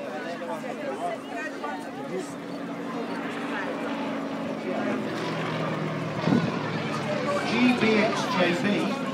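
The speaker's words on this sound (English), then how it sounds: "It's a 9-cylinder radial engine, which is started by compressed air, produces 360 horsepower." An ex-military trainer aircraft with a 9-cylinder, 360-horsepower radial engine running at an armed forces day event, a steady loud drone throughout with a crowd and voices mixed underneath.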